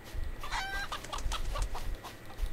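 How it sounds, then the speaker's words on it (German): A chicken in the survival game CryoFall clucks in a quick run of short, bright calls with a few sharper squawks, close and clear over a faint low rumble, with no one talking. "Huhn."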